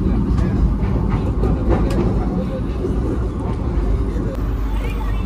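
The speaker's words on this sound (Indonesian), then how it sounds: "Sesaat lagi kereta Fajar Utama Yogya akan memasuki stasiun Bumi Ayu." The Fajar Utama Yogya passenger train approaching Bumiayu station in Indonesia rumbles steadily along the rails, loud and continuous broadband noise with faint rhythmic clatter throughout.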